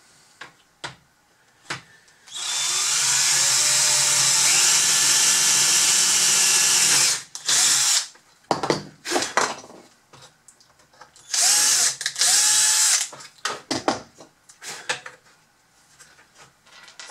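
A power screwdriver fastens screws on a MAN TGS Bruder RC truck conversion: one long whirring run of about five seconds, then a shorter burst, with close clicks and handling knocks between.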